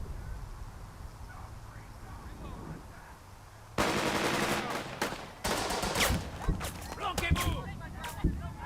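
Gunfire in the WWII tactics video game Burden of Command, set on the road to Casablanca: dense bursts of rapid machine-gun and rifle shots erupt midway and continue over low ambient rumble, loud and close.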